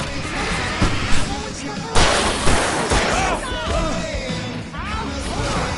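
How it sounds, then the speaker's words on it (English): Fireworks go off in Alan Wake on PS5 with repeated sharp bangs and crashing bursts, close and loud, while characters shout and talk over the action. "I can set off more of the fireworks!"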